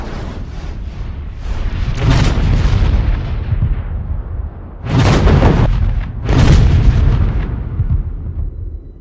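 A Nexter CAESAR self-propelled howitzer fires in the field, giving several loud, heavy booms, with two sharp blasts near the end over a rumbling background.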